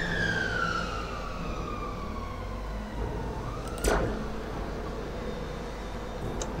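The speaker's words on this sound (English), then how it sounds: "Siren just scared the living crap out of my cat." A wailing siren in the puzzle video game Magrunner: Dark Pulse sweeps downward in pitch, then a sharp rising whoosh peaks near the four-second mark before a steady hum carries on alone.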